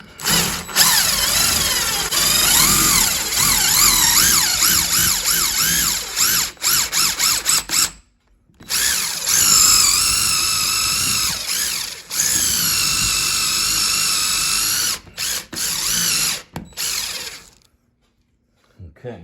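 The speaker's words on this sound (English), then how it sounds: "Okay, I'm going to pre-drill it." A power drill pre-drilling wood for wall-mount lag bolts whines loudly in long bursts, its pitch wavering under load, with brief pauses between runs and a short silence at the end.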